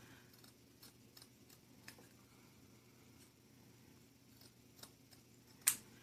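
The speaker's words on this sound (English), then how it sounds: "Make sure you have good sharp scissors." Sharp scissors snip through ribbon in a few faint, scattered clicks over quiet room tone, ending with one louder, crisp cut.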